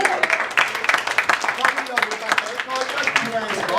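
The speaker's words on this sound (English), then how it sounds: "Clapping over there, mate" Wedding-reception audience claps in a steady patter of many hands, fairly close and continuous throughout, with a few voices talking underneath.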